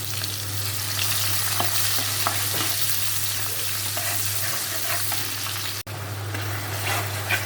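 Onion and spices fry in a pan with a continuous sizzle, punctuated by scraping stirring strokes, a brief break near the end, and a low hum underneath.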